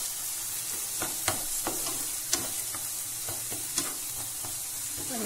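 Baingan bharta mixture sizzles and fries steadily in a pan as a spoon stirs it, with soft regular scrapes and occasional sharper clicks against the metal. No one is talking.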